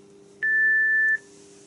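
A single steady electronic beep from a BT Decor 2600 telephone as a button is pressed, lasting under a second over a faint background hum.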